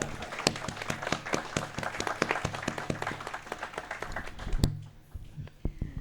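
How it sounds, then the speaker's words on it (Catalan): An audience at an exhibition closing event in a library applauds, with close, rapid, irregular claps that build and then stop abruptly, leaving a few scattered claps. "Un aplaudiment per vosaltres."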